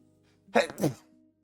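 A single person sneezes close by: a sharp two-part burst of breath and voice lasting under half a second in an otherwise quiet room.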